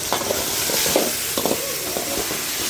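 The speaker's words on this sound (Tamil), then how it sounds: "இந்த கத்திரிக்காய், முருங்கைக்காய் எல்லாத்தையும் நல்லா சுருண்டு வர வரைக்கும் நல்லா வதக்கிக்கணும்" Brinjal and drumstick pieces sautéing in oil, a dense bright sizzle with repeated scraping stirs across the pan.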